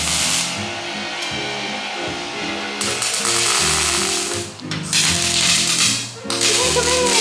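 A MIG welder lays a bead on an automobile part during a DIY metal fabrication restoration: steady, loud buzzing crackle with brief pauses and restarts, close by.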